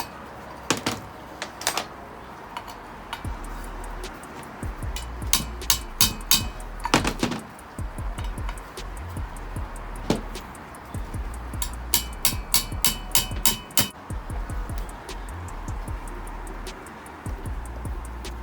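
Sharp metallic hammer taps on the locking tab of a Ford Transit propshaft nut during centre bearing replacement, coming in irregular clusters of quick strikes with short pauses over a quiet workshop background.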